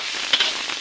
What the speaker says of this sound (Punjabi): ਪਿਆਜ਼ ਨੂੰ ਜਿਹੜਾ ਆ ਗੋਲਡਨ ਬਰਾਊਨ ਹੋਣ ਤੱਕ ਭੁੰਨ ਲੈਣਾ ਆ